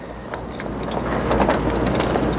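Keys for laundromat dryers jangle and clink as they are handled close by, a bright metallic rattling that carries on throughout, with the low hum of a room underneath.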